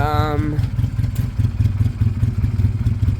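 A Piaggio Fly 125 scooter engine idles low and uneven at close range, a rhythmic pulsing chug; a voice briefly sounds at the start over the engine.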